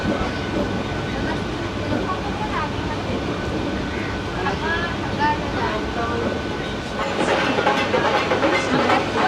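A passenger train running on rails on a morning trip from Katwa to Serampore in Hooghly, heard from onboard as a steady, loud rumble and rattle of the carriage, with faint voices in the background.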